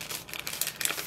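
Close crinkling and crackling of plastic stamp packaging being handled and pulled open, a busy rustle with sharp bursts.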